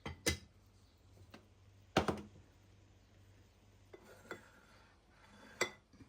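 Cassava and fish being dropped into a cooking pot for Jaffna kool, village style, with a few sharp metallic clinks and clatters of pot and lid spaced across a quiet background.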